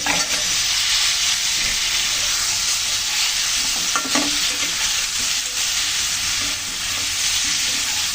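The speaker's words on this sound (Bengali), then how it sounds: "আলু আর কাঁকরোল দিয়ে ভালো করে ভেজে নিলাম চিংড়ির সাথে।" Shrimp, potato and pointed gourd fry in a pan with a steady, close, loud sizzle and occasional stirring scrapes throughout, with no talk.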